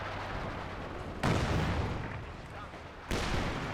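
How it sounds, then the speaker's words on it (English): Video game howitzer firing high explosive shells, two heavy booming blasts a couple of seconds apart over steady battlefield rumble. "its high explosive shells are hitting the mortars"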